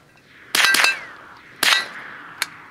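Gunshots are fired at a shooting target in an outdoor range setting: two sharp reports close together, then a third loud shot and a faint metallic ping, each crack loud and near against quiet background.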